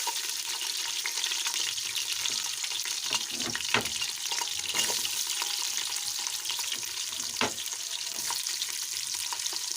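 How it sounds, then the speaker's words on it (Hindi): Chopped onions frying in a pan for moong dal, giving a loud, steady hiss and sizzle with occasional stirring scrapes and clinks throughout. "मैं इसमें डालूँगी प्याज जो मैंने कटिंग करके अपने पास रखे हैं।"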